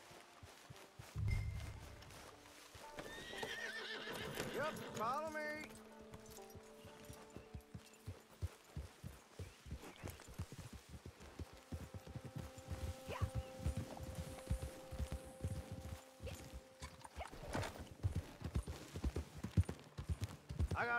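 Horses in Red Dead Redemption 2 set off with a whinny, and their hooves then clip-clop steadily on the ground, with short bursts of talk over the footfalls.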